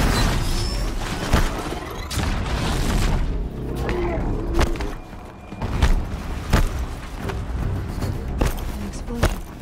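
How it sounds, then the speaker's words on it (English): Explosions in the video game Horizon Zero Dawn, several sharp booming blasts and thuds scattered over a dense rumbling combat din, with faint voices in the mix. "An explosion."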